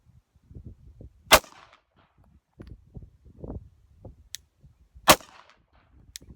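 Two sharp pistol shots at target practice, about four seconds apart, each a sudden loud crack standing out against quiet background movement and faint low rustling.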